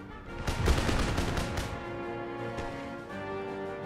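Musket volleys and cannon fire in an Empire: Total War battle, a ragged crackle of many shots clustered early, then fading into a distant rumbling battlefield din.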